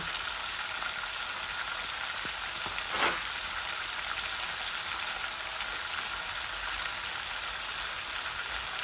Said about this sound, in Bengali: তো ভালো করে এগুলা ভাজা ভাজা আর একটু হয়ে যায়, তারপরে আমি তরকারিটা বসিয়ে দেবো।